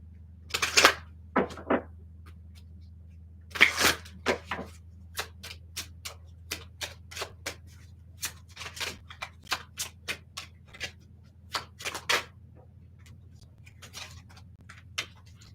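Zodiac fortune telling cards handled and shuffled close up, a series of crisp flicks and taps in uneven bursts, some quick clusters and some single snaps, over a low steady hum.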